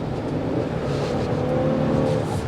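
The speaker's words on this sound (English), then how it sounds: "So if I mash on the engine," A 2024 Toyota Tundra SR5 engine accelerates, heard from inside the cab as a steady, rising engine drone with a faint whir beneath it.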